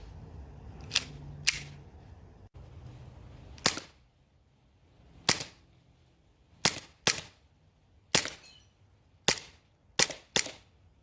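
Sharp, snappy shots from an Umarex Elite Force Beretta M92A1 CO2 BB pistol ring out about a dozen times at irregular spacing, some in quick pairs, each a crisp crack with a short tail in a quiet room.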